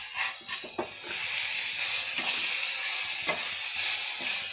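Food fries steadily in a hot pan, a dense continuous sizzle broken by a few scraping stirs near the start, close and fairly loud with no talking.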